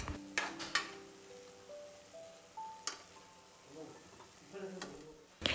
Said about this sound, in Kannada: ಇದನ್ನು ಚೆನ್ನಾಗಿ ಮಿಕ್ಸ್ ಮಾಡಿಕೊಂಡು ಸ್ವಲ್ಪ ಟೊಮೊಟೊ ಎಲ್ಲ ಮೆತ್ತಗಾಗೋ ತನಕ ಫ್ರೈ ಮಾಡ್ಕೋಬೇಕು